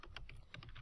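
Rapid keystrokes on a computer keyboard while entering jQuery code, a steady run of close, light taps with no talking.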